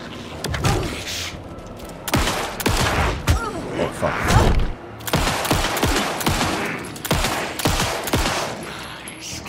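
Repeated gunshots in Alan Wake 2, loud sharp blasts in irregular bursts across the whole stretch, with a man briefly swearing over the firing.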